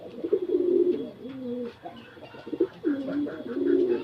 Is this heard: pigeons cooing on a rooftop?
yes